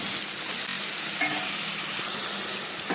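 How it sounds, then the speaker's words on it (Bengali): Dried peas for ghugni tumble into frying potatoes and get stirred: a steady, close oily sizzle with scraping and stirring strokes throughout, and a slightly sharper clatter about a third of the way in. "এই যে মটরগুলো দিয়ে দিলাম, এবার কতক্ষণ নাড়িয়ে চাড়িয়ে নেব"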